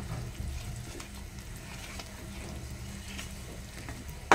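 Fish with salt, turmeric and chilli powder being sautéed in a pan, a soft steady sizzle with faint stirring scrapes and a sharp clink at the very end.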